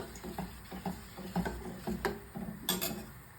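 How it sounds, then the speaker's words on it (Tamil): A spoon stirs ragi flour paste into cooked rice in a pot on a high flame, making soft repeated scrapes and clinks against the pot in a steady rhythm, close and moderately quiet. "நம்ம கரைச்சி வச்சுருந்த ராகி மாவை கொஞ்சம் கொஞ்சமாக உள்ளே சேர்த்து நல்லா மிக்ஸ் பண்ணிக்கோங்க"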